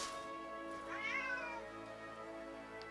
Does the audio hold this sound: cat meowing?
yes